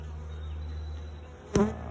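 Honey bees of a start-up colony at an opened hive during an inspection, giving a steady low insect drone with a brief louder buzz as a bee passes close to the microphone near the end.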